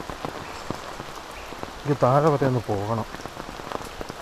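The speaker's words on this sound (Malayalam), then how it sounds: "ഇന്നും നല്ല മഴയാണല്ലോ." Heavy rain falls steadily in a continuous wash of drops, with a person speaking over it for a moment in the middle.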